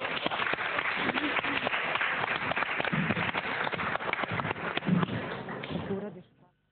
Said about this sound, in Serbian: Bravo, jedan veliki aplauz.